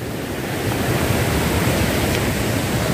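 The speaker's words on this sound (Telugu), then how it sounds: "సో వాటర్ వచ్చేసి ధవళేశ్వరం బ్యారేజ్ నుంచి ఈ పక్క నుంచి వస్తూ ఉంటుంది" Water rushes through the gates of the Dowleswaram barrage as a dense, continuous roar that stays loud and even throughout, with no voices.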